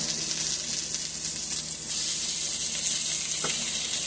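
Ground turkey meatballs filled with vegetables sizzle steadily in a hot pan on low heat, a dense close-up crackle and hiss that continues without pause.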